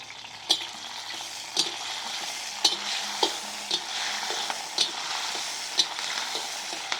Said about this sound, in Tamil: எண்ணெய் காஞ்சிருச்சு. கொஞ்சம் கருவேப்பிலை போட்டுக்கலாம்.